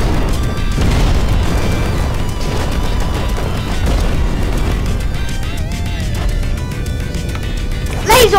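A missile explodes in the destruction game Instruments of Destruction, a dense rumbling boom with crashing debris that runs for several seconds, ending in a sharp burst, while a voice talks over parts of it.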